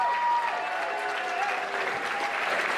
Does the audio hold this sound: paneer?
no